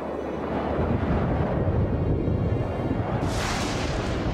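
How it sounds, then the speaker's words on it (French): Gusty wind rising before a storm roars in a dense, low rumble that swells, and a brighter hiss surges in toward the end. "Le vent se lève."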